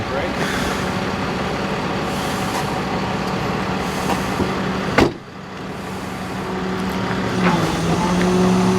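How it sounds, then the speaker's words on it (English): Rollback tow truck with its engine idling steadily, broken by a short sharp hiss of air as the emergency brake is set about midway, followed by a lower rumble and tonal hum as the engine carries on. "And now we're just going to set this emergency brake."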